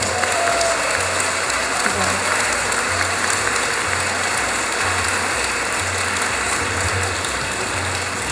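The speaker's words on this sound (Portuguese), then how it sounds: "Então eu queria uma salva de palmas para elas." An audience at a women-in-politics event gives a steady round of applause, dense clapping held at an even level throughout, with faint murmurs underneath.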